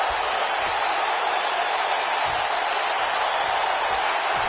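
Crowd noise from a PS4 wrestling video game, a steady, dense roar of cheering filling the whole stretch at even loudness, with no voices standing out.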